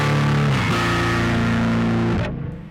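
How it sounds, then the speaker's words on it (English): Bass played through a DSM Noisemaker Sub Atomic X-Over distortion pedal, loud sustained aggressive chords with a gritty buzzing tone that ring and change once before cutting off near the end. "really aggressive chords. So it's not just an overall bass distortion."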